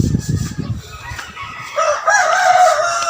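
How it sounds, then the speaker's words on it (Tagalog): A rooster crows loudly nearby, a long drawn-out call rising after a few low clucks and scuffles at the start. "So, yan yung mga manukan ko."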